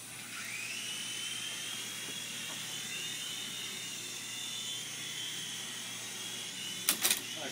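A helicopter in a multiplayer video game hums with a steady high-pitched rotor whine throughout, fairly faint, with a couple of brief sharp clicks near the end.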